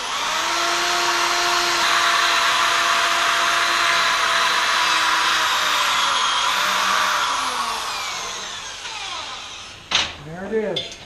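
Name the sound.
wire brush cleaning a hand-forged sleigh bell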